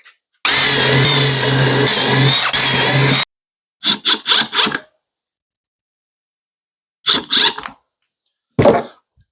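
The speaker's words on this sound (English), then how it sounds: "I'm going to put some screws in from the back" A power drill driving screws into wood from the back, one long loud whirring run followed by shorter stuttering bursts and a final brief one, separated by silence.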